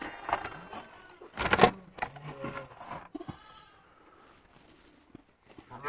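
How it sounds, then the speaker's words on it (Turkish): Sheep and lambs bleat repeatedly inside a small barn, several calls close by with brief overlapping cries, mixed with faint rustling and stray knocks. "Kuzular ahırda."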